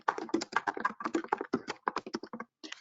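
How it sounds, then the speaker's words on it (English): A question is typed on a computer keyboard in quick, continuous keystrokes, a close and fairly crisp rhythmic patter that stops briefly near the end before a final few taps. "The next thing I can do is I can just type a question."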